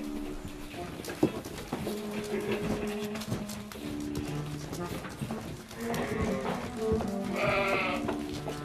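Sheep bleating in the Austrian Alps, several overlapping calls of varying pitch rising from a flock, with some shuffling and a brief knock, the bleats strongest near the end.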